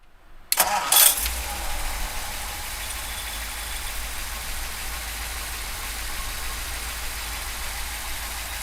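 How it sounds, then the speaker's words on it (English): A 1955 Ford Thunderbird engine cranks and fires, with a sharp burst at startup followed by a steady, close, rumbling idle that continues to the end. "We're gonna pop the hood, fire up the motor"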